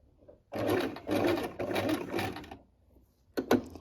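A sewing machine runs a straight stitch with a universal size 70 needle, sewing a Christmas tree decoration: three close bursts of rapid whirring stitching separated by brief pauses, then a short final burst.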